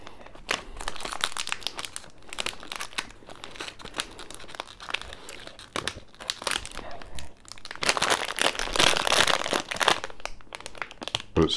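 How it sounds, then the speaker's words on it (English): A sealed plastic wrapper on a bakery item crinkles and tears as it is pulled open, close and continuous, growing louder toward the end with no talking. "Now, I just got to get it unwrapped."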